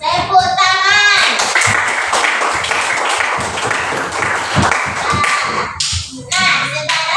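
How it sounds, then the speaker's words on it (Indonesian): A class of students claps together in a classroom, a thick burst of applause following a short spoken cue, continuing for several seconds, then thinning as voices come back near the end. "Tepuk tangan."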